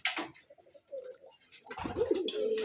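Pigeons coo nearby in low, throaty bursts, several calls overlapping, with a rustle of wings or movement at the start.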